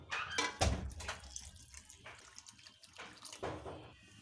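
Hot water poured into a dal gravy made with Bengal gram and yogurt, a few soft splashing bursts and gurgles, close and fairly quiet.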